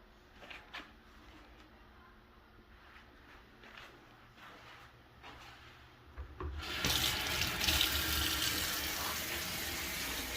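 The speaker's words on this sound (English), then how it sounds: "I'm just going to put some water in here." Tap water runs into a pot being filled for cooking frozen ravioli, steady and close, starting as a quieter trickle and swelling into a loud, full rush partway through. No one speaks.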